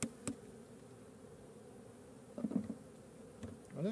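Faint, low buzzing of honeybees close by at a hive during feeding, with a few brief louder passes and soft handling noises in a quiet setting.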